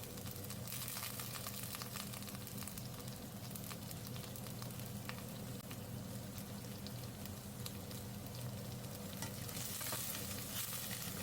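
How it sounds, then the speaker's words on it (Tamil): Fennel seeds fry in a pan with onion and green chilli, a steady close sizzle broken by frequent light scraping stirs, with no talking. "இப்போ வந்து இதில் பெருஞ்சீரகம் சேர்த்தாச்சு இதை கொஞ்சம் நல்லா வதக்கி விட்டுட்டு"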